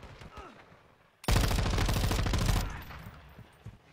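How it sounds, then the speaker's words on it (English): Light machine gun in Modern Warfare 2 fires one loud, sustained automatic burst of about a second and a half, rapid even shots close by, with quieter game ambience before and after. "I'm using a big LMG"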